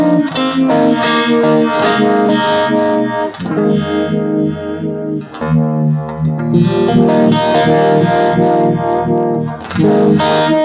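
An electric guitar is played through a vibe effect pedal: loud, continuous chords and notes with a swirling, wavering tone and brief dips between phrases.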